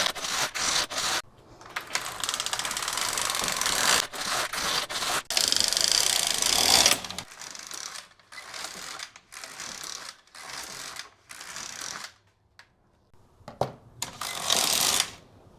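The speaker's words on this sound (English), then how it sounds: "And now we just cast off with waste yarn our remaining center stitches." A knitting machine carriage is pushed back and forth to cast off the remaining centre stitches onto waste yarn, giving loud ratcheting mechanical sweeps in repeated passes separated by brief pauses.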